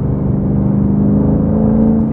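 A 2005 Ford GT with a Heffner supercharger, over 800 PS, drives along a country road, its engine giving a loud, steady, close growl with a slight rise in pitch.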